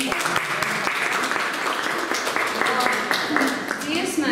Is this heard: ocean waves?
no